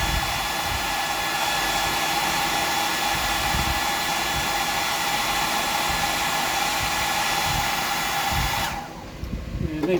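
A hair dryer blows steadily up close, drying a coat of paint on a deep-diver fishing lure, a constant whirring roar that cuts off just before the end.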